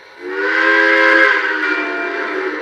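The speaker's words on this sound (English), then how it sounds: "all the 5 horns. I'll just keep alternating them." An O-gauge model steam locomotive sounds its horn: one loud, sustained tonal blast with a quick onset, held steady for over two seconds, close and clear with no voices.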